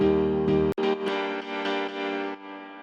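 Unprocessed piano chord layer for an emotional progressive house track, rich sustained chords with a brief sharp click near the start and a few gentle re-articulations, heard alone and up close.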